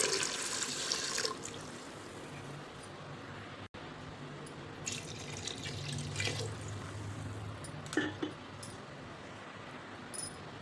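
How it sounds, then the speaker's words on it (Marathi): Water runs and splashes steadily over washed wheat grains in a container, a continuous close pouring rush with brief louder spurts. "आपल्याला आता भरपूर पाणी टाकायचे"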